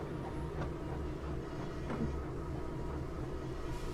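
A train rolls steadily through a rail yard in a Thomas train simulator video game, a continuous low rumble with faint clicks and rattles, moderately quiet and unchanging throughout.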